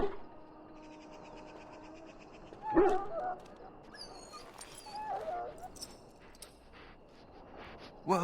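A wounded dog in the Dragon Age fantasy game whimpers and gives a few short yips and barks, moderately near, over a soft musical game backdrop, with a loud sharp yelp near the middle.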